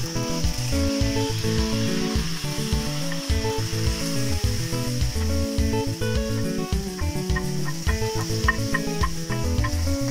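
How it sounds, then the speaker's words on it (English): Omena fish deep fry in hot cooking oil, a steady, close crackling sizzle that stays loud and even throughout, with music playing underneath. "As your omena is deep frying,"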